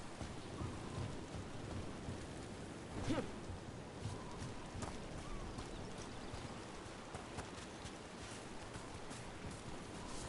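Rain falls steadily in the video game Dragon Age: The Veilguard, a soft constant hiss with a brief louder thump partway through, faint and distant.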